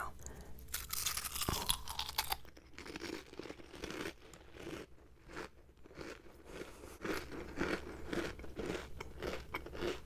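Close-up crunching as a whole handful of crisp red foods is bitten and chewed at once, a dense, continuous run of crackly bites and wet chewing with no talk.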